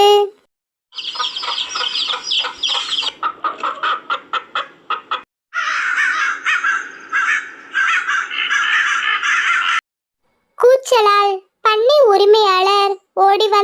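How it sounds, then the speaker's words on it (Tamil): A crow caws loudly and harshly, in rapid repeated bursts and longer stretches, close by, followed near the end by other fowl-like calls. "காகம் உரத்த குரலில் கத்தியது"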